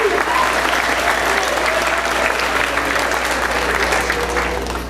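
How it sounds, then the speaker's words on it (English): Audience applause after a middle school winter band concert, a dense, sustained clapping from a large crowd filling the hall at steady loudness before easing slightly at the end. "give him a round of applause anyway."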